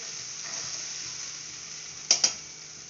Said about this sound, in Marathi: मस्त कडक फोडणी द्यायची